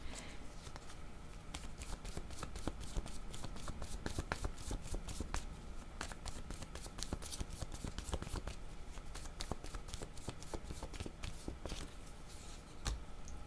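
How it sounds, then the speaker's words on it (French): Playing cards tumble and get shuffled during a card game, a steady, dense riffling and flicking of cards that runs close and continuous throughout. "Oups, attendez, mes cartes sont en train de tomber."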